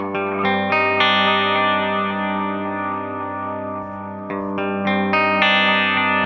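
Delay pedal echo repeats, softened by a raised filter, trail after distorted guitar notes, chiming attacks fading into smooth overlapping repeats before fresh notes restart the cascade.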